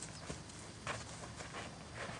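A horse walking on a vinyl-covered jump course, hooves clopping in a soft, faint irregular rhythm against quiet background noise.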